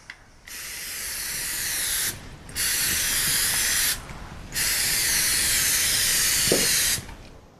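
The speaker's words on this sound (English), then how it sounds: "So what we're going to do is use a little baking pan spray." Three sustained, loud hissing bursts of baking pan spray coat a pan at close range, with short pauses between them and a faint click near the end.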